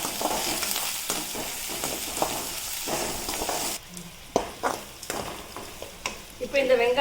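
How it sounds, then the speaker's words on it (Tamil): Onions sautéing and being stirred in a pan for instant adai dosa batter, a steady close sizzle broken by scraping stirs, briefly quieter midway before rising again. "இப்போ இந்த வெங்காயம் ஓரளவுக்கு வதங்கினா போதும்."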